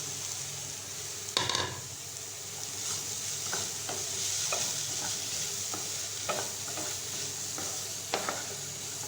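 Jackfruit seeds stir-fried in a pan with spices, including turmeric. A steady, close sizzle of frying runs throughout, with occasional sharp scrapes and clinks of a spoon stirring.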